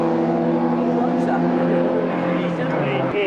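Triumph TR race cars from a 1995 racing register event roar past on track with a loud sustained engine drone that dips slightly toward the end, while a commentator talks over it.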